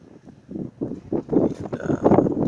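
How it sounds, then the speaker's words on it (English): High wind in the desert near Quartzsite, Arizona, buffets the microphone in low, rumbling gusts that swell and fade, growing stronger toward the end. "a windy day, really windy day like this once a week once we get into January."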